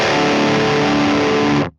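A single sustained distorted electric guitar chord through a Mesa Boogie Mark IIC+ amp simulator plugin at its default tone rings out loudly for under two seconds, then cuts off abruptly.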